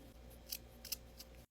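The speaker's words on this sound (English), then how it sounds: "Now, I'm gonna take your scissors. I want to cut the ends to make a point." Small scissors snip pipe cleaner ends to a point in a few quick, crisp cuts, close and quiet, spaced about every third of a second.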